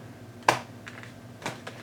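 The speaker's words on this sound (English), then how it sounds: "So let's go ahead and get our shuffle on. I'm going to cut." Tarot cards shuffled and cut by hand during a reading, giving two brief papery riffling bursts about a second apart with softer card taps between, fairly close and quiet.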